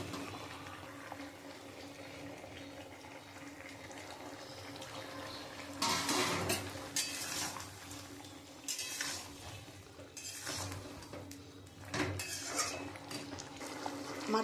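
Katla fish roe goes into a pot of bubbling curry with yardlong beans and is stirred. A quiet simmer runs beneath, broken by a few sharper scraping and clattering bursts from the pot.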